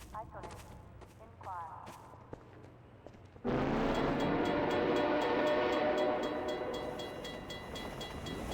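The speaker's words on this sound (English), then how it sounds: "It appears this locomotive is being used by the Combine Overwatch" A Combine locomotive in the Half-Life 2 video game approaches suddenly and roars past loudly, a heavy rumbling, clattering rush that fills the scene after a quieter stretch with some talking.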